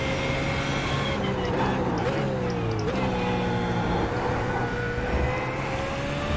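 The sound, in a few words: GT3 race car engine while driving, from the video game iRacing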